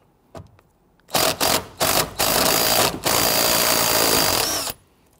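Power tool spinning out a 12mm bolt on the rear seat bolster of a 1992-1996 Toyota Camry, loud bursts of high whirring in several short pulses followed by a long steady run, alone without talk.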